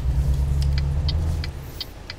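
A truck engine in a truck-driving game gives a low, steady rumble as the rig pulls forward, easing slightly quieter partway through, with a few light regular clicks above it.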